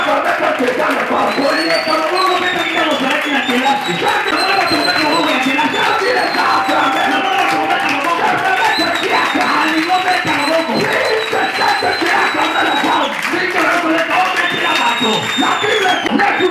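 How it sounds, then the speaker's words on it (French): Sunday worship congregation raising a long, loud, unbroken roar of cheers, shouts and some clapping, with voices rising and falling across the crowd. "C'est les acclamations que tu as acclamées que tu es dans le corps."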